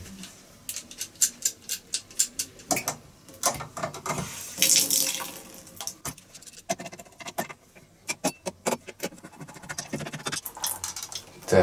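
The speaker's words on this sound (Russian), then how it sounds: "Перекрываем воду." Water runs from a faucet into a sink during a household mixer tap repair, with bursts of splashing and metallic clinks before the flow is shut off and quieter handling sounds follow.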